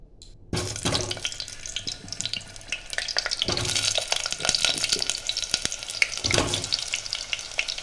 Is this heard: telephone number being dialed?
no